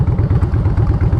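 Harley-Davidson motorcycle engines rumbling steadily with a deep, loud, continuous throb and rhythmic low pulsing, heard close up.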